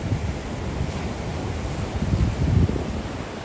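Ocean waves roll and crash steadily on the coast at Maroochydore or Mooloolaba, mixed with heavy wind buffeting the microphone, a loud surge building near the end.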